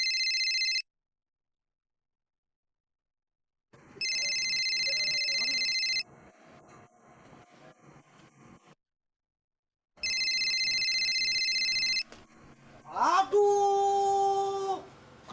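A telephone rings in repeated loud electronic bursts, one short and then two long ones separated by quiet gaps, while a voice speaks between the rings and near the end.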